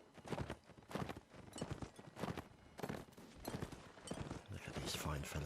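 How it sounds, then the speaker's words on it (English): Horses' hooves clatter across the ground as dragoons ride during a Napoleonic Wars line battle in Mount & Blade, a busy, loud run of hoofbeats mixed with sharp gunfire-like bursts and background voices. "The clatter of the horses' feet on the ground."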